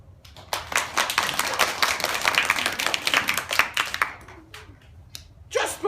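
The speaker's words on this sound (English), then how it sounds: "And everybody clapped." Applause from an audience at the close of a sung rendition of Danny Boy during a leprechaun story reading, a dense spread of hand claps sustained for several seconds, with a short burst of renewed clapping at the end.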